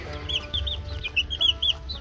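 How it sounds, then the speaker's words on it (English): Young Egger chicks cluck and peep in a busy, overlapping chorus at a feeder, steady and fairly close, with soft rustling underneath. "Can you eat, little chicken?"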